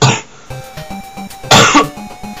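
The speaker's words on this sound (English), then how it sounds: "I'm just gonna leave that little transition of me coughing there" Two loud coughs from a man playing Mega Man III, one at the start and another partway through, separated by quieter game music with a repeating beeping tone.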